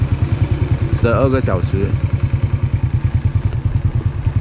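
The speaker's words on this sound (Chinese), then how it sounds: "这个就是今天租的一辆摩托" Rented motorcycle in Vang Vieng, Laos, idling close by with a steady rapid thumping pulse throughout, while someone speaks briefly over it.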